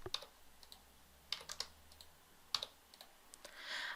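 Typing on a computer keyboard: sharp, separate key clicks arriving in small irregular bursts, close and fairly quiet, with short pauses between groups and a faint hiss near the end.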